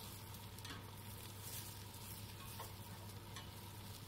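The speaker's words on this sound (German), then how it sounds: "jetzt dürfen die Champignons angebraten werden" Button mushrooms searing in hot oil in a pan while being stirred, a soft continuous sizzle with occasional scraping strokes of the utensil, close but quiet, with no talking.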